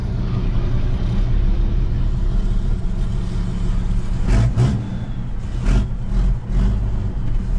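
A 12-valve Cummins diesel dually truck with a custom hood stack rumbles steadily and loudly up close. The revs rise briefly, bringing a turbo spool whoosh over the deep diesel drone.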